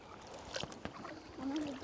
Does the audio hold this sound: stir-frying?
no